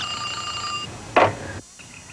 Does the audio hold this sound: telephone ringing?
yes